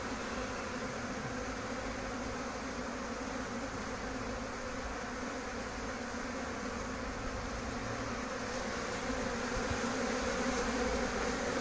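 Honeybee drones fly out in front of two apiary hives, a dense, steady buzzing hum that holds for the whole stretch and swells slightly toward the end, with no talk.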